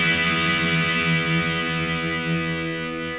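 An electric guitar sounds a chord through effects, a single sustained, distorted, chorus-tinged strum ringing loud and slowly fading, with no talking.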